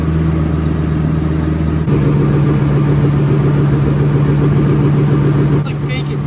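Ford 7.3 diesel truck engine idling up close, a steady loud low rumble throughout with a slight shift partway, while people talk nearby.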